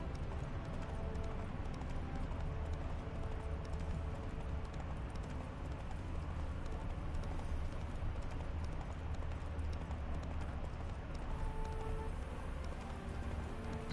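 Roach the horse's hooves clip-clop steadily in The Witcher 3, an even trotting rhythm under a constant wash of ambient game background noise.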